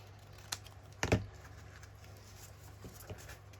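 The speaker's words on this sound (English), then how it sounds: "And I might just trim off this excess here." Paper being trimmed from a junk journal page: a sharp snip near the start, then a louder crisp cut-and-rustle around one second, followed by a few faint clicks over a steady low hum, close and quiet.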